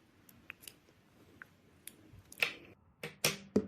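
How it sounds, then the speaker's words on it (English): Scissors snip crochet thread while a beanie is being finished, with a few soft clicks and then two or three sharper close cuts near the end. "Then I'll cut the thread a bit longer here."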